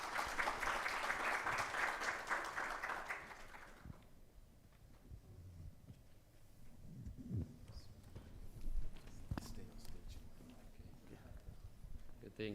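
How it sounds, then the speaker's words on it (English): Audience applause for the panelists at a symposium on smart, sustainable and secure Internet of Things, a dense burst of clapping for about four seconds that then cuts off, leaving quiet room noise and scattered small sounds. "So please, big round of applause for our amazing panelists."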